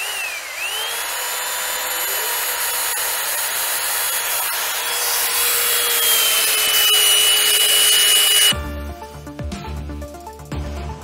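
A Festool belt sander grinds across wood in a loud, continuous whine that holds steady for several seconds, then gives way to rougher, lower rumbling and scraping near the end.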